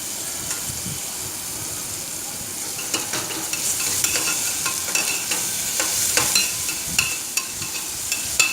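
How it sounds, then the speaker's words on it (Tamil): Ginger garlic paste sautéing with curry leaves for a mutton liver pepper fry: a steady broad sizzle with frequent scraping stirs of a spoon against the pan, growing busier and louder toward the end, with no talk. "இஞ்சி பூண்டு பேஸ்ட் போட்டு பச்சை வாசனை போகிற வரைக்கும் வதக்கிக்கலாம்."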